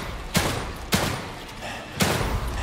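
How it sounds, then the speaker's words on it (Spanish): Gunshots to an enemy's head in The Evil Within 2: three sharp, punchy shots at uneven intervals, each a sudden burst over a low, steady game ambience. "Qué buenos balazos le metí en la cabeza."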